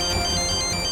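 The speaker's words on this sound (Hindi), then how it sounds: "हमरा फोन लगता है परी का होगा।" A mobile phone ringtone announces an incoming call, playing a steady electronic melody with repeating tones that fills the whole moment, loud and close with no talk over it.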